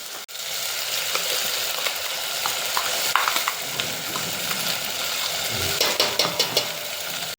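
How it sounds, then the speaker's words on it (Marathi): Ground masala paste sautéing in hot oil for a village-style Maharashtrian chicken rassa, a steady close sizzle with scraping stirs and small clinks of a spatula against the pan throughout. "या मसाल्याला तेलात छान असा परतवून घ्यायचा"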